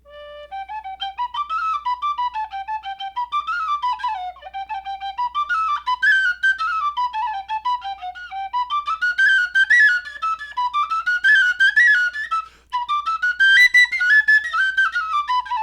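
A penny whistle plays a lively, ornamented melody alone, bright and close, with quick trills and steady phrasing throughout.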